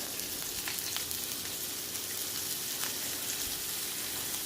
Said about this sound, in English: And now we're just gonna let this beef cook.